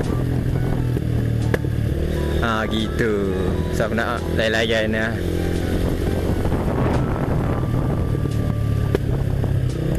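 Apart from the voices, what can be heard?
motorcycle anti-lag exhaust popping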